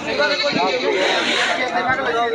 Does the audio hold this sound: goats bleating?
yes